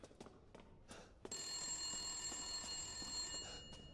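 An old-fashioned telephone bell ringing in Resident Evil Village, a sustained bright metallic ring starting abruptly after some quiet footsteps and continuing loud and steady to the end, with no talk.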